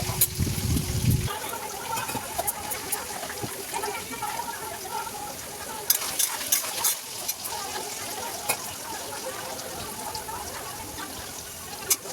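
Onions deep-fry in a pan for mutton, a steady sizzle with frequent stirring scrapes and clinks, and a brief low rumble at the very start.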